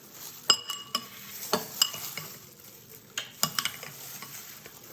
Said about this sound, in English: We'll have to mix it thoroughly.